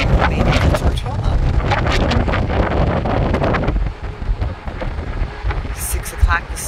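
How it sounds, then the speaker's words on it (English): Strong wind buffets the microphone on the open deck of a Disney Fantasy cruise ship near Tortola, a loud continuous roar with gusts that eases slightly toward the end. "still very windy"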